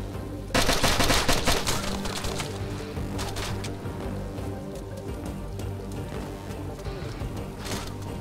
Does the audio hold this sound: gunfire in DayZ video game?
yes